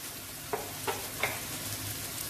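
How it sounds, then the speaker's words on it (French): Carrots simmering in a pan give a soft, steady sizzle close by, broken by three light stirring scrapes. "Je laisse mijoter deux minutes."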